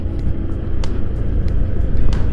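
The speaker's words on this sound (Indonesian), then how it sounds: "Ada mobil" A car rolls past on a road near a toll-road construction site, heard as a steady low rumble of tyres and engine with faint clicks over it, close and fairly loud throughout, with no talking.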